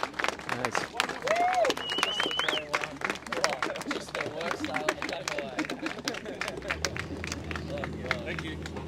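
A crowd on the dock at the finish of the Sydney Hobart yacht race gives a round of applause, a steady wash of clapping mixed with cheering, chatter and whistles, with voices talking over it throughout.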